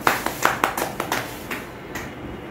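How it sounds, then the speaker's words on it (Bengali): A handful of people clap at a family birthday celebration at home, a loose burst of hand claps near the mic that thins out and fades after a couple of seconds, with no talk. "হাততালি"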